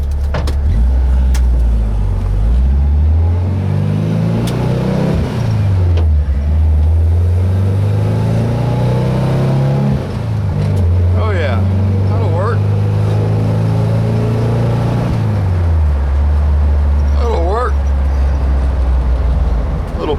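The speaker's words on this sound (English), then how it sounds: "Bus ride, little bus ride for the tubers." An old bus engine drones loudly and continuously during a drive, rising in pitch as it accelerates and dropping at each gear change, with cabin rattles throughout.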